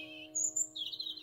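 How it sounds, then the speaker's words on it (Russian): Birds sing outdoors in Buryatia on a warm, sunny evening near sunset: a few quick, high chirps and tweets, faint and somewhat distant, over a low steady hum. "Пение птиц"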